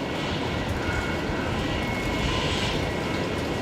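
A Singapore Airlines jet taxiing at Brisbane Airport gives off a steady, broadband engine roar with a faint high whine, constant and moderately distant throughout, with no talk.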